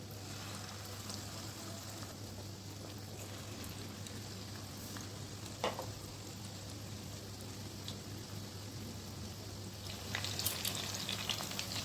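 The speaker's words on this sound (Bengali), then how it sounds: "এবার আমি চিকেন স্যাটেটা দিয়ে ভেজে নিচ্ছি।" Batter-coated chicken satay frying in hot oil in a kadai, a faint, continuous crackling sizzle with a steady low hum underneath and a slight rise near the end.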